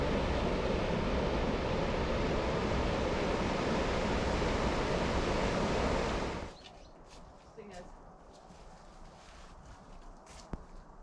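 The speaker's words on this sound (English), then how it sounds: "Just a short section with a weir, but as you can see, flow is extremely brisk" River water pours briskly over a weir beside a canal navigation, a loud, steady rushing roar for about six seconds before cutting abruptly to quiet outdoor ambience with faint scattered sounds.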